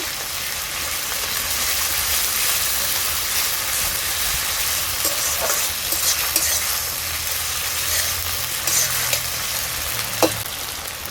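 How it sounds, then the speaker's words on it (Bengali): Onions with chili, cumin and ginger paste being stirred in a pan: a loud, constant sizzle like heavy rain with occasional spoon taps and scrapes, close and steady throughout, no one speaking. "এতে আমি দিয়ে দেব লঙ্কা বাটা, জিরে বাটা, আদা বাটা, সব কিছু ভালো করে মিশিয়ে নেব"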